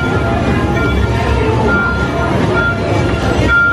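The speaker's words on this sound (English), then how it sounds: "Here comes our train." A ride train arriving at Disney's Hollywood Studios rumbles and hums loudly and continuously, with a dense low-frequency drone, faint tonal whines and no talk.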